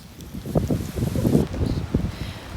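Strong, gusty wind on a stormy day in Rhu, Scotland, a rough low rumble buffeting the microphone in uneven surges, close and fairly loud throughout.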